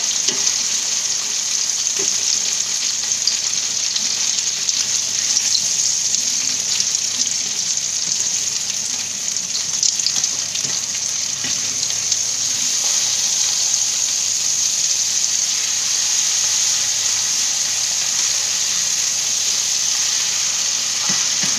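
A Thai omelette frying in plenty of hot oil, giving a constant, loud, bright crackling sizzle that holds steady throughout with only faint occasional clicks and no speech.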